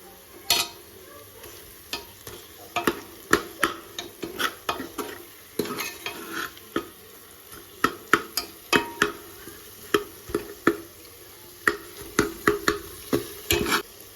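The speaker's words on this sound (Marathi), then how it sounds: "यात थोडं आपण बटर टाकूया." Butter sizzles in a pan with asafoetida for Marathi-style pav bhaji, a low frying hiss under frequent close clinks and scrapes of a spoon stirring against the metal pan, with no talking.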